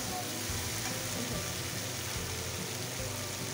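Shol fish frying in a pan gives a dense, steady sizzle that runs unbroken and fairly loud throughout, with no voices.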